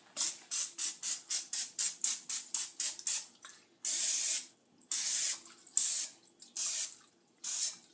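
Cooking spray hisses onto a baking dish for pastitsio: a quick run of a dozen short spurts, then several longer sustained sprays with pauses between, close and clear.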